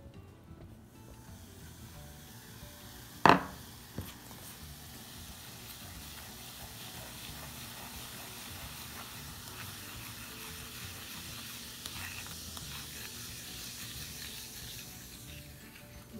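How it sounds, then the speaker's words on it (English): Vinegar and baking soda mixture fizzing as an egg substitute for vegan whoopie pies, a soft continuous hiss at low volume broken by a single brief clink. "this is just a basic vinegar and baking soda mixture, volcano as I like to call it"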